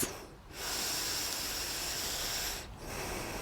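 Deep, slow breaths during a yoga practice, close and breathy: one long hissing exhale of about two seconds between brief pauses, with another breath starting at the end.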